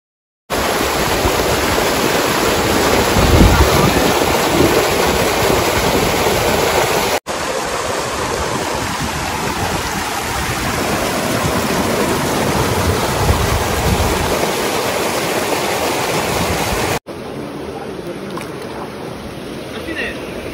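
Water pours and rushes steadily at Agavi Nayinar dam in Tenkasi, a loud, continuous broadband roar close by that holds throughout with two abrupt cuts.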